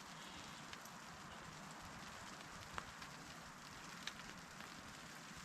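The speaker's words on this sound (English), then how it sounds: "I think I hear it raining." Steady rain falling on a surface at a campsite, a soft continuous hiss with a few louder drips, fairly faint and distant.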